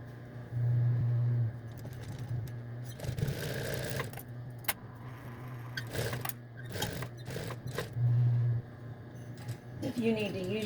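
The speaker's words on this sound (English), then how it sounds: "So we're going to stitch, back stitch at each end, and stitch all the way across just to create a hem." A sewing machine stitches a hem across thick terry towel fabric in short bursts, buzzing steadily at close range between pauses, with a person speaking quietly in between.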